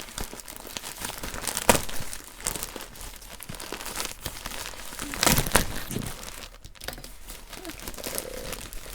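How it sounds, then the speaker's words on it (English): Acrylic yarn skeins are peeled up and handled close by, producing irregular crinkling and rustling of their wrappers with a few louder crackly bursts. "Peeling up this yarn."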